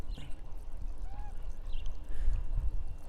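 Brine pours from a container into a bucket of herring bait strips, a soft, faint splashing trickle that swells slightly toward the end, with no talking.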